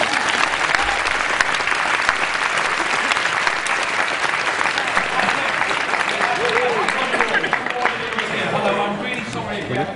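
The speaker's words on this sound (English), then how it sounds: "I think he deserves a round of applause" A convention audience breaks into sustained, loud applause filling the hall, with cheering and scattered voices mixed in and the clapping thinning slightly toward the end.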